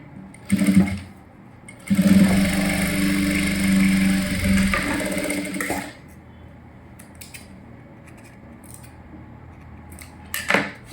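A sewing machine stitches a seam with an overlock-style finish on a silk skirt for a young girl, running in a steady whirring burst of about four seconds between brief handling clicks and quiet pauses.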